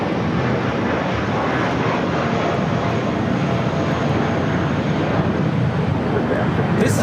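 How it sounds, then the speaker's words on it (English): A Spirit Airlines Airbus A320 jet taking off at LAX, its engines a loud, close, sustained roar filling the whole stretch with dense broadband thrust noise. "2456 taking off to Dallas Fort Worth on an A320"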